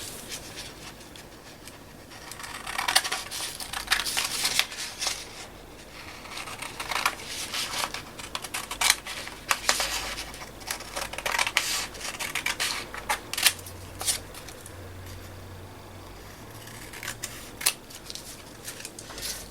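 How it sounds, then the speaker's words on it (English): Scissors snip out a paper journaling tag in a crafting session, a close series of crisp, irregular cuts and rustles of paper that keep going steadily, with no voices over them. "then we can just cut that one out"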